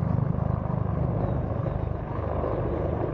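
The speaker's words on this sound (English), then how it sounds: "These are pretty loud helicopters too." Loud, throbbing military helicopter rotors at a Marine Corps air-ground demonstration, with a rapid rhythmic thumping over a heavy engine roar, close and continuous.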